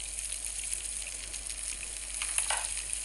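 Meat frying in a pan in the Toca Kitchen 2 cooking game, a soft, steady sizzle that swells slightly near the end, with no talking.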